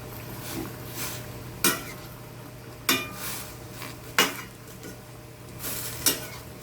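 Vegetables for dinengdeng with saluyot and sitaw are stirred in a pot, a low simmer running underneath while four or five sharp metallic scrapes and clanks of the spoon against the pot ring out at irregular intervals.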